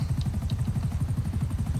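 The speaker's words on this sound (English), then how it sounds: "we got a smoking helicopter" Helicopter in Grand Theft Auto V, smoking and damaged, with a steady low rotor chop pulsing rapidly and evenly throughout, loud and close, no voices over it.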